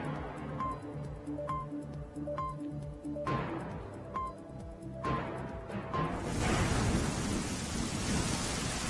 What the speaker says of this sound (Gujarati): ભારે પવન સાથે વરસાદ જામ્યો છે